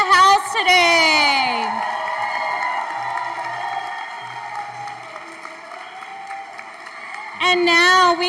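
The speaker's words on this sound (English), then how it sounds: "One last hand of applause, everyone, for our scholars in the house today." An audience at a school letter-of-intent signing event applauds and cheers for its scholars, a dense crowd roar with whoops that swells at the start and again at the end, a loud voice over the crowd at the start.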